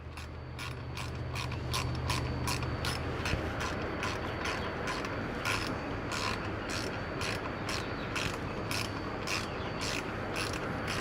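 A ratchet tightens the last bolt on a crank harmonic pulley during a 1.8T timing job, with steady rapid clicking strokes repeating close up throughout and no talk.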